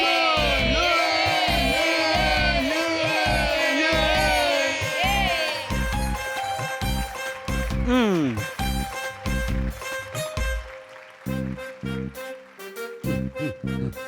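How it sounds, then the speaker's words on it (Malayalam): Cartoon crowd cheering and whooping with loud shouts, animated music and sound effects layered throughout, with a descending whistle-like swoop midway and choppier musical stabs toward the end. "എല്ലാവരും കൈയടിച്ചാട്ടെ."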